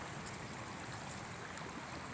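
Water from a flooded brook rushes in a steady, dense wash close by, unbroken and without voices.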